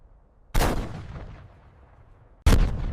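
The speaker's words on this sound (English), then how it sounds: "The M26 Pershing's 90mm M3 gun spoke first." A 90mm tank gun on an M26 Pershing firing twice, each shot a sharp, loud blast followed by a long rumbling decay.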